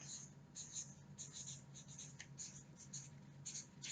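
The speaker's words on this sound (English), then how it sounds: "we're actually going to write that on our kite" A pen or marker scratches across a paper kite in short, quick strokes, faint and close, with brief pauses between the strokes.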